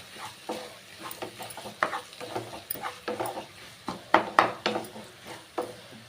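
Mashed dal being stirred into coconut in a pan for obbattu, a run of scraping, clattering strokes with light sizzling beneath, close by and uneven in rhythm.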